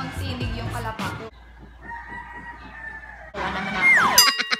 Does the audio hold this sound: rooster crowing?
yes